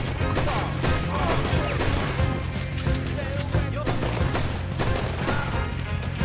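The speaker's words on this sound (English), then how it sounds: "Arthur Morgan can shoot." Gunfire in the game Red Dead Redemption 2 during a tram escape through a town in lockdown, with dense, loud, repeated shots and crashes over a busy game soundscape.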